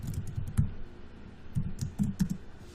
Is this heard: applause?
no